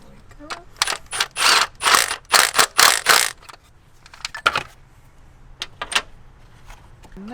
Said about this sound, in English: Make those bolts tight and then install the third one right there.